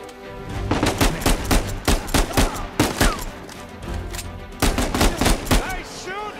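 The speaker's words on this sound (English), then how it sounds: "Nice shooting!" Rapid gunfire in the Uncharted 4 action game, a string of sharp loud shots in uneven bursts, some firing quickly back to back, with brief pauses between volleys.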